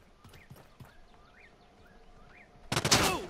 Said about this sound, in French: Hop, on me tire dessus.